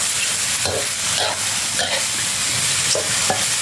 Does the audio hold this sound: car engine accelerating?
no